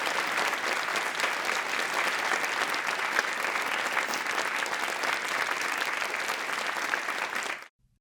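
Sustained applause from a large crowd, steady and full for several seconds before cutting off abruptly.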